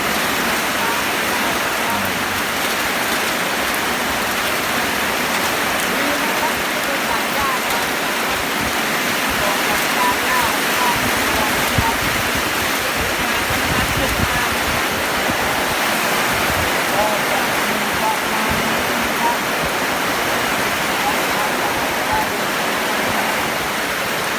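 Heavy rain pouring through the night, a dense, loud and unbroken hiss and patter with no lulls, close all around.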